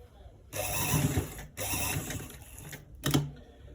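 A sewing machine stitches a V-neck on a garment in short bursts: a rapid mechanical whirr for about a second, a brief pause, another run, then a quick final burst, close by.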